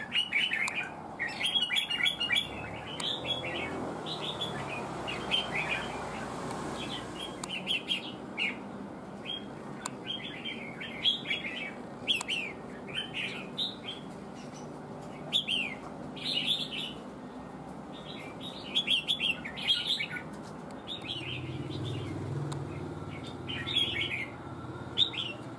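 Red-whiskered bulbul (chào mào) singing, a string of bright, repeated chirpy phrases throughout, moderately close over a steady low background hum, with no speech.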